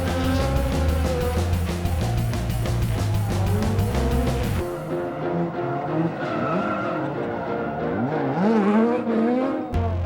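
A loud race car roars at speed close by, its engine note droning and shifting, then its tyres squeal and skid as the pitch wavers and slides.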